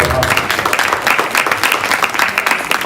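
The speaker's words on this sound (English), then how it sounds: "Another round of applause." An audience at a speaking event applauds with a dense, steady patter of clapping hands that carries on throughout at close, loud level.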